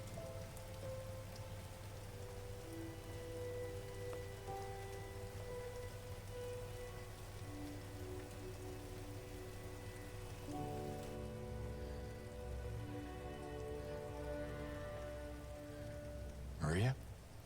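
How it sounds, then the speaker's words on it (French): Steady night rainfall patters continuously in the Silent Hill 2 Remake video game, with low ambient drones and tones beneath and a brief sharp burst near the end. "Il fait nuit maintenant et il pleut."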